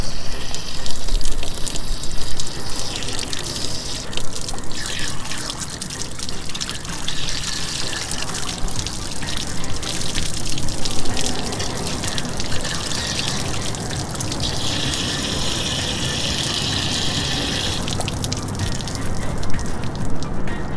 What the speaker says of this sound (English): relieve a little pressure from the tank